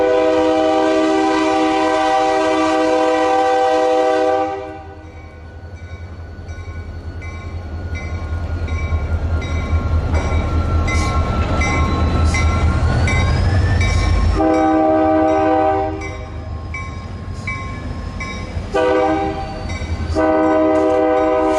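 A freight train passes close by with center beam flat cars, its loud horn blaring in long blasts at the start and again near the end, while the wheels rumble and clatter heavily in between.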